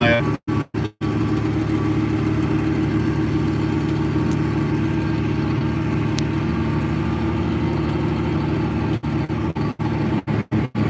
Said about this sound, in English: There goes the reversible fan kicking on. If you hear the tractor humming, this has the reversible fan and it kicks on.